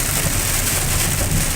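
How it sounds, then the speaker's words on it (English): Rain heard from inside a car on the drive home, a dense, steady hiss of drops on the vehicle with a low road rumble underneath, close and continuous. "that's my drive home in the rain"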